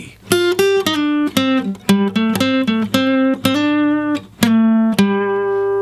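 Guitar solo from a song played at a slightly slower tempo, clean sustained single notes and slides picked one after another in a clear, unaccompanied melodic line, close and fairly loud.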